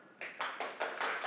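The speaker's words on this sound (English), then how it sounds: "can you clap your hands?" A lecture audience claps in short, sharp bursts, several quick rounds of hands coming in regular waves, fairly quiet and heard at a distance with no talk over it.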